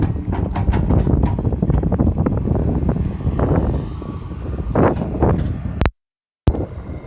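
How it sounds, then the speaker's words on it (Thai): Strong gusting wind buffets the microphone at an earth pond being graded by an SK140-8 excavator, a loud continuous roar with rumbling surges, briefly cut to silence near the end. "ลมแรงเหมือนเดิมพี่น้องเอ้"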